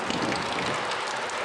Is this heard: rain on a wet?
yes